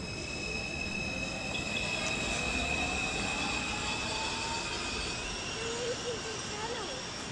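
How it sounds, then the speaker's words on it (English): A passenger train pulls away from a station, its broad rumbling wash and steady high tonal whine continuing throughout at close range, with faint chatter mixed in. "say bye to the train, Henry."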